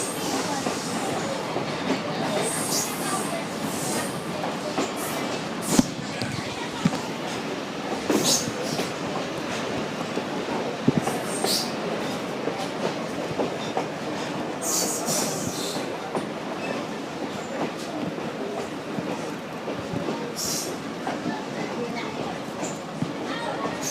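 A heritage scenic railroad train rumbling along the rails with rhythmic clicks and occasional squeals, a steady rolling noise, while a voice speaks over it.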